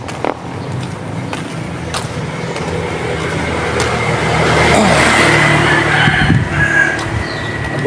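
A loud motorcycle engine with a booming exhaust pipe rides around a rotunda in Montalban, revving steadily and swelling nearer and louder toward the middle before easing slightly, with road and tire noise throughout.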